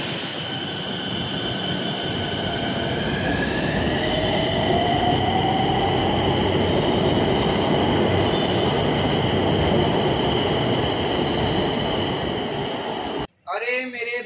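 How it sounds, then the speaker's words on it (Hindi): A metro train rolls loudly and continuously, wheels rumbling and squealing with rising tones, before the roar drops out abruptly near the end as a brief voice speaks. "अब हमारी ट्रेन भी आ चुकी है"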